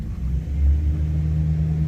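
A truck engine rumbles close by in a farm setting, a deep, steady low drone that swells slightly partway through, as if revving, with no talk over it.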